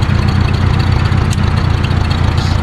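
A 1949 Farmall Cub tractor engine with a rebuilt carburetor running steadily at about 20% throttle, a loud, close, even low putter with a regular rapid pulse and no voices.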